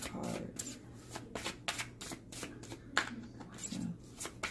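A deck of oracle cards being shuffled by hand in repeated bursts of riffling and flicking, close and fairly quiet, with faint low background hum between bursts.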